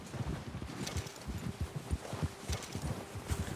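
Horse hooves clip-clopping in a steady rhythmic gait while riding in Red Dead Redemption 2, moderately close, with light wind noise in the background.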